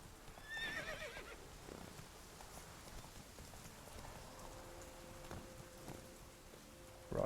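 Roach, a horse in The Witcher 3, gives a high whinny early on, followed by scattered hoof clops and faint rain-like ambience, with a brief bright sound at the very end.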